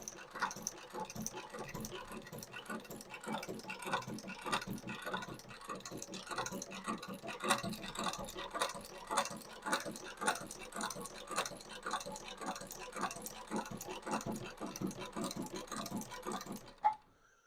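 A heavy-duty shoe repair sewing machine with an enlarged shuttle runs steadily, its needle ticking and clattering in a fast, even rhythm throughout, moderately close, then stops abruptly at the end.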